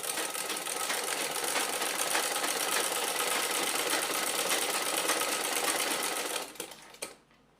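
A sewing machine stitches an overlapped garment neckline in a steady, close, continuous whir for about six seconds, then slows and stops.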